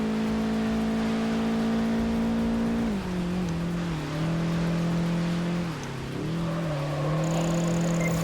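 Race car engine in Project Gotham Racing 4 on a wet road, a loud sustained roar that drops in pitch twice as gears shift or the car brakes into turns, then climbs again.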